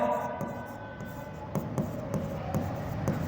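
A teacher writes an account entry, probably chalk on a board, with a rhythmic series of sharp taps and scratches, close and clear, over a faint background hum.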